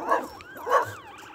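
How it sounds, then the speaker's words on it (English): A dog outdoors gives two yelping, whining barks in quick succession, fairly close and moderately loud, with a fainter whimper trailing after. "Because we're getting attacked by a dog, I think."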